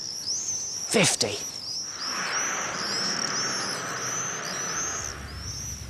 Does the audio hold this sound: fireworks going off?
no